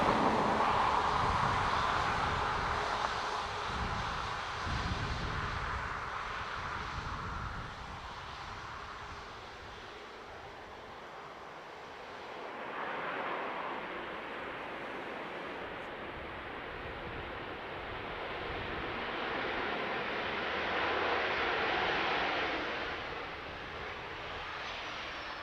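A Ryanair airliner arriving from Valencia at Dublin Airport roars past, a broad jet engine rumble that swells, dips and builds again over about twenty-five seconds, heard alone without talk.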